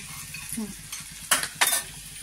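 Cumin seeds and garlic tempering in a pan over lowered heat, with two short bursts of sizzle and stirring standing out over a low background, no talk.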